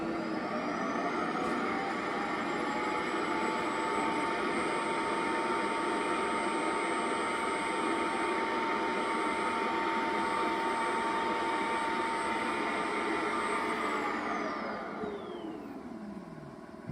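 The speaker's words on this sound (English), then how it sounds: "That sound was the little robot going back into its home and cleaning itself, emptying its basket." A robot vacuum docks at its base and runs a steady, loud whirring self-emptying cycle of its basket, holding constant for about fourteen seconds before its pitch sweeps down as it winds to a stop.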